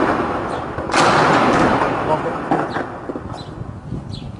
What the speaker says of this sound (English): But you hear violence and shelling and air attacks on what are likely to be civilian areas.